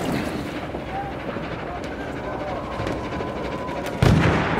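Armored train assault in Battlefield 1: dense rumbling battle noise with heavy low-frequency booms like artillery fire, continuous throughout and ending in a loud close blast, with voices shouting over it.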